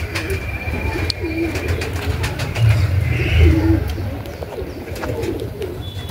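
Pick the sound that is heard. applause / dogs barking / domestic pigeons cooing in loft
domestic pigeons cooing in loft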